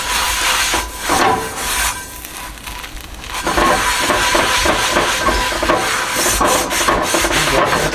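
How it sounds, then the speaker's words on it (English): Metal scraper rubbing and rasping across the surface of a cast iron skillet while it is cleaned and oiled, a steady close gritty scraping with short repeated strokes that continues without pause. "So here we're just kind of both scraping it off and adding some oil."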